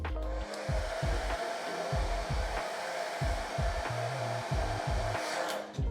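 A hair dryer blows steadily and loudly throughout while styling hair with a round brush, with soft low thumps repeating now and then underneath.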